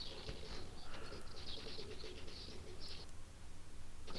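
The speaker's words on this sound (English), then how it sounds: "Sounds like birds." Pigeons or doves cooing softly in the background, picked up by a nearby microphone, with repeated low coos over a steady hiss and a few faint chirps.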